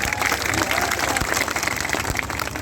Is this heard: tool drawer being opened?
no